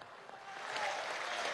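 A crowd at a national farmers' gathering in Venezuela begins applauding, a short, distant swell of clapping that builds over under two seconds.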